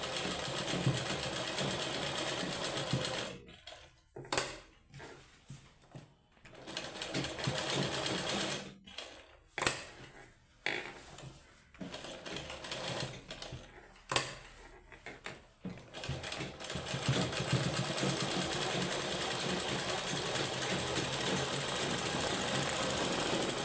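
A sewing machine stitches socks made from an old sweater, running in steady mechanical bursts broken by short pauses and stops, with a close, rattling, ratcheting hum and no talk.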